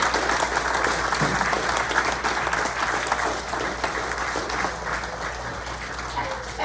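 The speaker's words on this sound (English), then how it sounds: "Oh, a standing ovation and all" Crowd at a 15-year anniversary celebration giving a standing ovation, a loud, full wash of clapping and cheering that holds steady throughout, with a low hum underneath.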